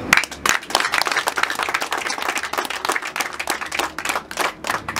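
Wedding guests clap in a dense burst of applause that runs steadily through the whole stretch, loud and close with many hands at once, with no voices standing out.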